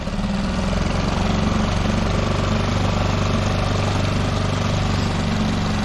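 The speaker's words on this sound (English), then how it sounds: "This is a more of an open water outboard" A small Suzuki 6-horsepower outboard motor on a kayak runs steadily and loudly close by, a constant droning rumble with a buzzing vibration and no pauses.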